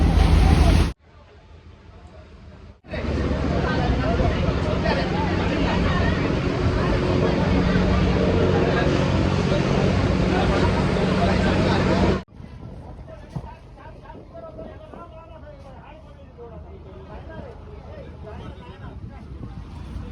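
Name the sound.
boat starting out on the sea off a Goa beach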